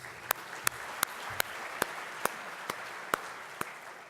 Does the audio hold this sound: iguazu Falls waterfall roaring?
no